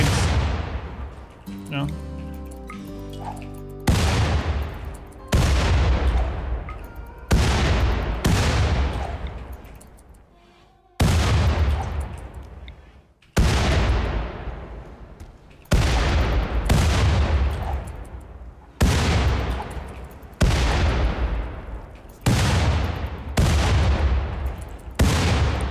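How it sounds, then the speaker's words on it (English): Frag grenade explosions and gunfire in a video game come as a series of loud booming blasts, each fading out, with heavy firing between them, while a player talks over the action. "You guys ever clean with frag grenades?"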